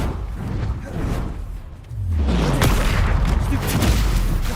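A Confringo explosive spell blast in Hogwarts Legacy lands as a loud, booming broadband burst with a deep falling rumble, building from a softer lead-in into a sustained, dense roar.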